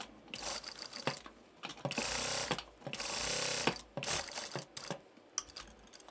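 A sewing machine stitches fabric in short, close, mechanical rattling bursts, with clicks and pauses as the needle stops and the fabric is turned at corners.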